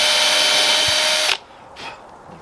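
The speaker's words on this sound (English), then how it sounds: "But what we'll do is we'll pre-drill one of these" A power drill whirs loudly and steadily as it pre-drills a hole in wood for a weasel box, then cuts off abruptly, leaving a quiet room with faint handling sounds.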